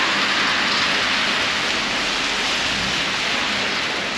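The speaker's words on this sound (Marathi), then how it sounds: "हॉटेलवरून निघून जसं निघालो तसा पाऊसच चालू झाला आहे" Steady rain falls on a mountain road on the way to Narkanda, heard as a dense, even hiss that stays loud and unbroken from start to finish.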